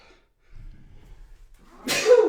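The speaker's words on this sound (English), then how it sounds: "Excuse me, might sneeze here." After a brief quiet breath, a single sharp sneeze bursts out close by, loud and sudden.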